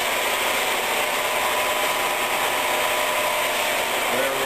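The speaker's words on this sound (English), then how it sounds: "I have lowered the speed on the machine down to 480 RPM per minute" A SIP MP-3K jig borer runs steadily at 480 RPM, giving a loud, even mechanical whir with a faint gear-like rattle, continuous and close, with no talking.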